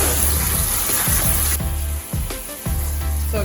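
Cooked macaroni noodles rinsed under running water in a kitchen, a continuous hissing splash of water with a brief drop midway, then several rattling shakes.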